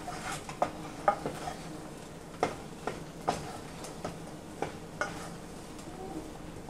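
A spoon stirs choux pastry dough cooking in a pot for cream puffs and éclairs, giving irregular scraping clicks and knocks against the pot over a faint steady sizzle, close and fairly quiet, with no talking.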